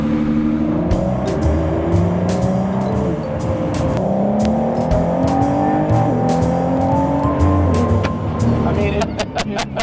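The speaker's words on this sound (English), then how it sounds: "It does pull nice. And it sounds like a really fast V6." A V6 sports car engine revs and accelerates on a racetrack with rising, changing pitch across gear shifts, steady and loud throughout, with voices talking over it.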